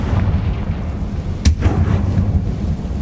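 In the Hogwarts Legacy video game, a Confringo spell explosion lands as a single sharp blast midway through, set against a dense, rumbling low background of game sound.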